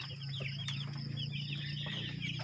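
Chicks and chickens under a warm brooder lamp peep and cluck constantly, high overlapping chirps over a low steady hum, close and busy without pause.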